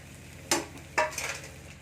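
A spoon turns cooked rice into an egg mixture in a pan for egg rice, giving two soft scraping, clinking strokes against the metal over a faint sizzle, close and fairly quiet.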